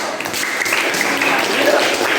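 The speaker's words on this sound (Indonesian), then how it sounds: "Tepuk tangan dulu." Classroom clapping during a school lesson, with a dense patter of hands from a group of students, close and fairly loud, continuing steadily throughout with some noisy room sound underneath.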